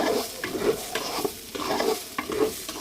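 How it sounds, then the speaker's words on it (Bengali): Pulao stirred and fried in a home kitchen pan, a steady sizzle broken by repeated scraping strokes of the spoon at an uneven rhythm, close and fairly loud with no talking. "পোলাও রান্না করছি।"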